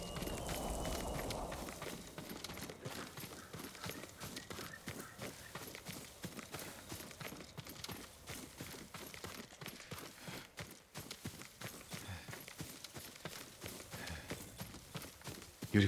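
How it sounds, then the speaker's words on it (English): Yuriko's horse in Ghost of Tsushima clip-clops steadily along at a walking pace, a continuous run of hoof falls with faint ambience behind it. "Yuriko's horse."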